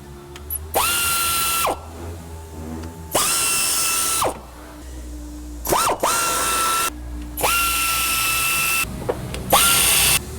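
A power tool loosens an 18 mm bolt on a car's power steering pump. It gives four loud whirring bursts of one to two seconds each, separated by short pauses, with brief ratcheting stops between runs.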